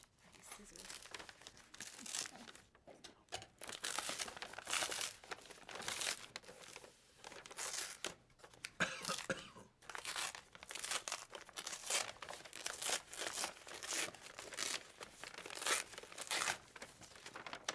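Paper envelope holding a bid being cut with scissors and opened at a municipal board meeting, with faint dense crinkling and tearing rustles in irregular bursts, quiet and close, and soft room talk in the background.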